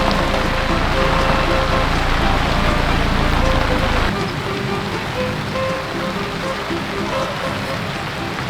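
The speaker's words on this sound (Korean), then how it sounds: "하필 비가 오고 지랄이야" Steady rain patters on surfaces at a campsite, a dense continuous hiss that drops slightly in level partway through and carries no voices.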